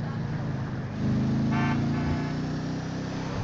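A car in the video game GTA 5 drives with a steady engine hum, and a short horn toot sounds midway. A voice talks faintly underneath.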